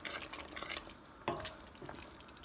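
Peppers and onions for a chicken jalfrezi frying in a pan, a quiet spitting sizzle with scattered pops and a couple of utensil knocks, faint and close.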